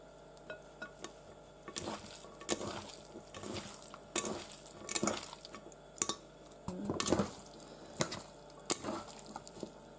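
Chopped onion frying and being stirred in a pan while preparing skewered shashlik, with repeated scraping and clattering of a utensil over a soft background sizzle, close and intermittent.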